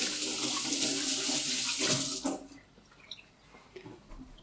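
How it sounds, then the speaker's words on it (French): Hands rinsed under a running kitchen tap while preparing an avocado, shrimp and grapefruit salad, a close steady splash of water for about two seconds, then stopping with a few faint drips. "Je me rince rapidement les mains."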